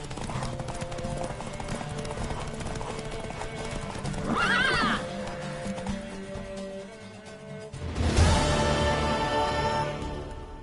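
A horse gallops in a race in The Witcher 3, with steady hoofbeats under a continuous busy backdrop. Two loud close neighs break out, the second the strongest.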